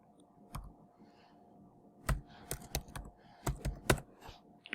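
Computer keyboard keys tapped in short irregular bursts of clicks, close and fairly quiet, with brief pauses between clusters of keystrokes and no talking.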